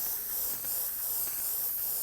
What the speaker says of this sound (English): I'm going to do a little test spray.